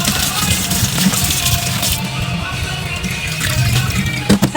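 Water runs and splashes steadily into a container for soaking sliced patola (sponge gourd), fairly loud and close, with brief voices in the kitchen.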